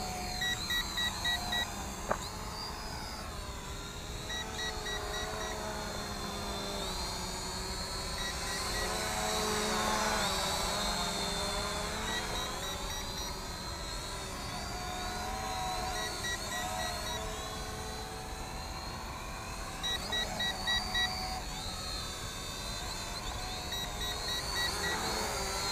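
An Eachine E520S GPS folding drone flies nearby, a steady high-pitched propeller whine that rises and falls in pitch as it maneuvers, with faint beeps, and no talk.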